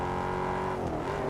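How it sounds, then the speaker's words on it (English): A Ford Mustang's engine drones steadily during a race in Test Drive Unlimited Solar Crown, a sustained, even roar at constant pitch with no break. "I'm driving the Ford Mustang."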